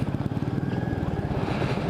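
A motorcycle being ridden, its engine throbbing in a steady pulsing rumble that stays loud and close throughout, with no talk.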